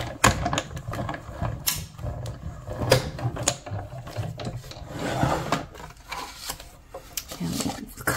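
A hand-cranked die cutting machine rolls a card-making die through, giving a continuous close rumbling clatter with uneven creaks and knocks.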